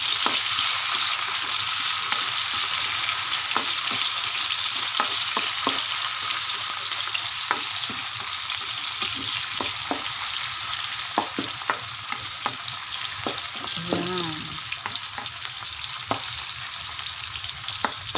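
Onion, garlic, ginger and tomato sauté in a pan with a steady hiss of frying, punctuated by frequent light taps and scrapes of a stirring spoon, plus one brief squeak; no speech.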